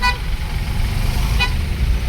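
Heavy road traffic near Ghansoli, Thane, with buses and containers heading toward Konkan: a steady loud rumble of engines, cut by two short car-horn toots, one at the start and one midway.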